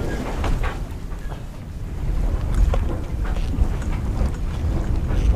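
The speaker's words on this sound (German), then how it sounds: "wir müssen jetzt die letzten 14 Meilen noch kreuzend hart am Wind fahren" A sailboat beating close-hauled into wind and waves on an ocean passage, with steady gusting wind noise, rushing water and irregular slaps against the hull, loud and close throughout.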